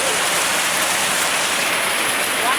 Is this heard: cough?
no